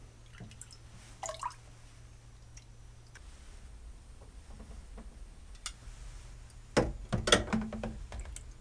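Water drips and trickles while a fermentation water lock is rinsed, giving a few sparse close drips early on and a louder cluster of splashy drops near the end, with no talking.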